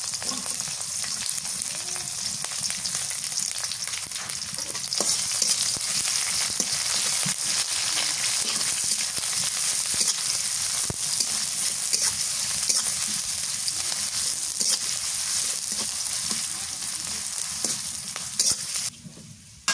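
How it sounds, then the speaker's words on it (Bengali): Chopped onions and green chilies fry in oil in a pan for village-style cooking, giving a loud, continuous crackling sizzle with scraping stirs throughout and no voices. "পেঁয়াজ মরিচ ভাজা হয়ে গেছে"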